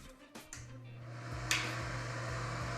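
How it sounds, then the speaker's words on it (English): A steady low electrical hum of a ceiling fan runs throughout, with a couple of faint clicks and a brief rustle over it. "I apologize for the fan noise, but the fan's connected to the lights"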